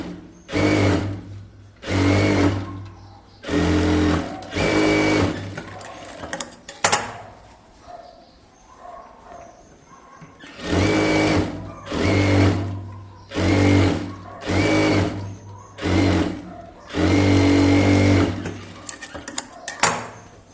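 A sewing machine straight stitches a blouse, running in repeated rapid whirring bursts of a second or two, loud and close, with short pauses and light handling noises between runs.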